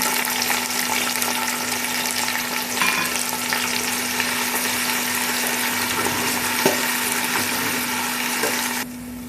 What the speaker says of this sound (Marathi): आता एक टोमॅटो बारीक चिरला तो टाकून घेऊ।